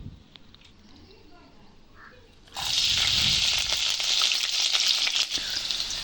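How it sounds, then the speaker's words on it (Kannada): Green chillies and onion hit hot oil for a tempering, bursting into a loud, steady sizzle that holds after a quieter start, with faint stirring and light background sounds. "ನಾನೀಗ ಅದನ್ನು ಒಗ್ಗರಣೆ ಕೊಟ್ಕೋತಾ ಇದ್ದೀನಿ ಸೊ ಹಸಿಮೆಣ್ಸಿನ್ಕಾಯಿ ಈರುಳ್ಳಿ ಹಾಕಿ ಚೆನ್ನಾಗಿ ಬಾಡಿಸ್ಕೊತಾ ಇದ್ದೀನಿ"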